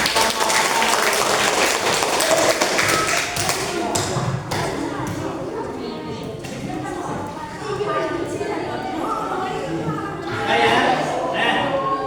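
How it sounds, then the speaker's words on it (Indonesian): Classroom applause from students breaks out after a coding and artificial intelligence presentation, a scattered burst of clapping with taps and thumps, fading and returning while voices chatter over it. "Kita beri tepuk tangan"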